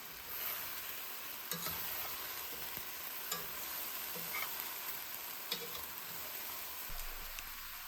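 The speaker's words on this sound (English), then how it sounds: "The sound of the meat getting all nice and browned and caramelized and full of flavor" Pieces of pork browning in a pan for chile verde, a steady close hiss of sizzling with occasional soft pops and clicks throughout.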